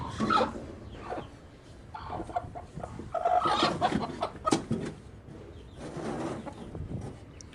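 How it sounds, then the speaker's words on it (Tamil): A hen clucks before laying an egg, giving close, irregular bursts of clucking and short calls spread through the clip, alone without talk. "அந்த கோழி வந்து முட்டை விட போகுது"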